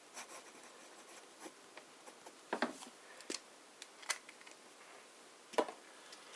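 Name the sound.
fountain pen medium nib writing on paper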